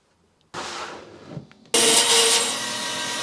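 A saw cuts into a large Alimajo agate, starting with a brief rough grinding, then a pause, then a loud, steady, bright cutting whine that holds to the end.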